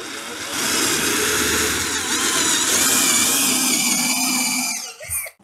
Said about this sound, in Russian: здесь надо просверлить мне отверстие